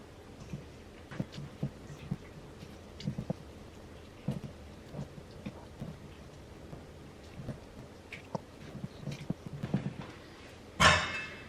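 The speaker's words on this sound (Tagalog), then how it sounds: "Nagtatry siyang umulan." Rain is just starting to fall outdoors, with faint, scattered drops tapping irregularly at a low level. It ends in a sudden, louder burst of noise.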